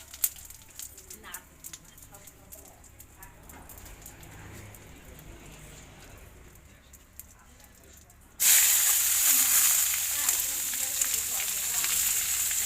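Bay leaves and cumin seeds dropped into hot oil for a home-cooked biryani, giving a sudden loud, steady sizzle and hiss that persists after a quieter stretch with talk in the background.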